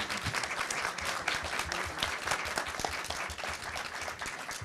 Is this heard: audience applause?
yes